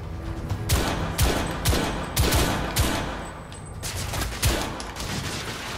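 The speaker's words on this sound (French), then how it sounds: "Il me mitraille à mort et il résiste à 50 balles." Rapid machine-gun fire from an enemy in the video game The Order 1886, loud repeated bursts of shots with sharp cracks, continuous and dense across the stretch with no talking.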